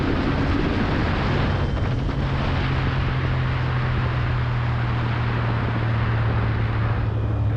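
CFMoto 450NK motorcycle engine droning steadily while being ridden, a constant loud hum mixed with heavy wind rush, no talk.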